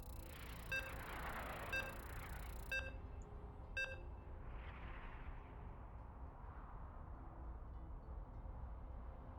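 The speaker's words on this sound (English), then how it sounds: "You can hear the beeps." Countdown beeps before a StarCraft 2 tournament match, four evenly spaced electronic tones about a second apart over a low game rumble, followed by a swelling whoosh as the match starts.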